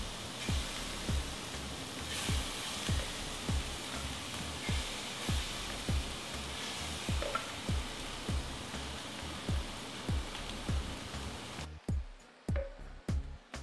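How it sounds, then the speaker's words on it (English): Shrimp seasoned with cayenne, pepper and garlic powder fry in a pan over medium-high heat, giving a constant close sizzle broken by soft regular taps, with the hiss dropping away abruptly near the end. "So I have my shrimp here that I seasoned with some cayenne pepper, some garlic, some powder, some garlic powder, some pepper. I'm going to add this to the pan."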